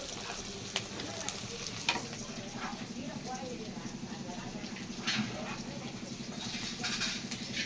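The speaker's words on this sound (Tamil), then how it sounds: "நல்லா தக்காளியை மசிச்சு விடும்." Tomatoes mashed and stirred in a frying pan, giving a soft sizzle with scraping and occasional sharp knocks of the utensil against the pan, fairly quiet and close, with a faint voice in the background.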